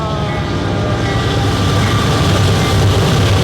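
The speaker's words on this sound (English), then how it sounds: "catch a glimpse of the train." A train passes close by near an Air Force base, a loud, continuous rumble with rail clatter that holds steady for the full few seconds.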